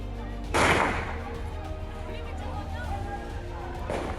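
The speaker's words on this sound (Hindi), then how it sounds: "देखिए कैसे यहां गोलियों की गूंज सुनाई पड़ रही है" A sharp loud gunshot rings out early at night on a highway, then another near the end, over a steady murmur of distant voices and background noise.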